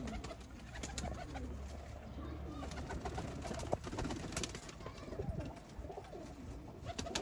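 Soft, low pigeon coos repeat through a steady background murmur, with occasional rustling and faint voices nearby.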